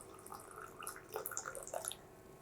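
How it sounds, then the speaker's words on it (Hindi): Boiling hot water poured over wormwood (afsanteen) leaves to make tea gives a faint, irregular trickle with small splashes and drips over a steady background hiss. "ये खौलता गर्म पानी गया अफसनतीन पर"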